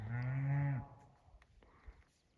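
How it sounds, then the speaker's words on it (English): A cow with a newborn calf lets out one close, loud, drawn-out moo on a trail, followed by quiet outdoor ambience with a few faint knocks. "A lot of cows up here this morning, and their newborn calves."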